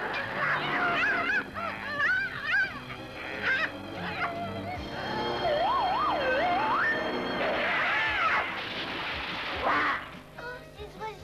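Cartoon birds honk and quack in a French-dubbed animated scene, their wavering, siren-like calls rising and falling one after another over a busy background.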